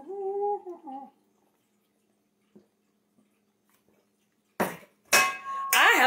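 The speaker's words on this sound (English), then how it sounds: "I have a frying pan." A frying pan handled on a kitchen stove while grilled cheese sandwiches are being made, giving three short metallic clatters and scrapes near the end after a sung phrase and a long quiet stretch.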